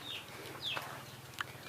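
Hens and their chicks at a rural house in Laos give a few faint, high peeps and soft clucks at a distance over quiet background noise.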